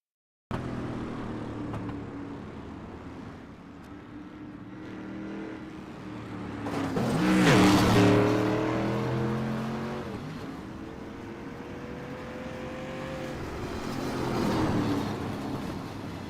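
Race cars at Thompson Speedway, including a heavily damaged car back on track, with engines droning nearby and a loud car roaring past at mid-clip before the engine noise fades and swells again.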